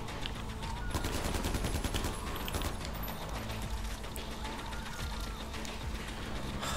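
AK rifle fired in Far Cry 4, rapid automatic bursts rattling steadily and loud through the whole stretch with no talk over it.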